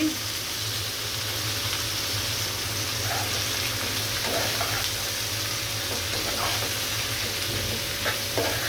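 Bitter gourd pieces tossed into a pan of frying prawns and onion, giving a steady close sizzle with scraping stirs throughout, and a low electrical hum running underneath.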